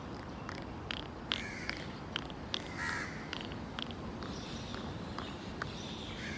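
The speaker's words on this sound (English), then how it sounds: "they've got a very different accent. It's slightly higher than our Australian crows." Crows in a tree in Singapore caw in short, fairly high calls, several birds repeating at irregular intervals, moderately close over a soft, steady outdoor background.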